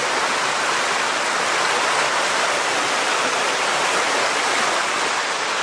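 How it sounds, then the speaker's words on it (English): Fishing Creek rushing where it feeds into a reservoir, a loud, steady broadband roar of flowing water that stays constant throughout, with no voices. "Down here is the one stream that feeds into the reservoir."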